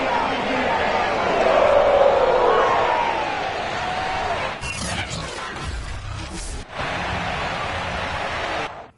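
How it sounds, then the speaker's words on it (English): A sold-out Cincinnati Bengals NFL stadium crowd roars in a loud, dense, continuous wash of cheering as the team takes the field for a Week 16 game against the Baltimore Ravens, with brief breaks in the sound partway through. "The enthusiasm of this Cincinnati crowd in full effect a moment ago as their Bengals took the field to the delight of this sold-out crowd."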